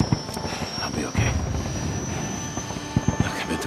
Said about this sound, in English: We gotta get on that chopper